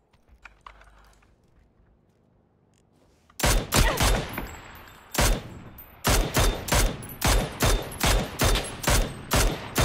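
Gunfire in the battle royale game PUBG: after quiet rustling, sharp loud shots ring out, first a few separate blasts and then a rapid, evenly spaced burst of repeated fire.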